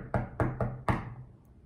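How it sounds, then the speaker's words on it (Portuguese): Four firm knocks on a wooden door, three in quick succession and a fourth after a short pause, close and dry with a brief resonant thud. "Chegando lá, bateu a porta."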